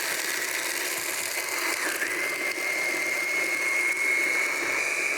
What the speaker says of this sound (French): Et là, on va mixer.